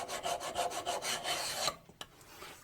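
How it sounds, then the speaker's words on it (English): A hand file is drawn back and forth across the gasket surface of an International 3 HP Type M engine fuel mixer, making a quick series of close, rhythmic rasping strokes, then a sharp tap and quiet. "you just run a file on everything as a courtesy"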